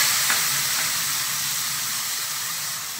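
Chopped tomato hitting browned onions in a pan sets off a steady, close sizzle of hot oil that hisses on evenly for the whole stretch, slowly easing off, with no voices.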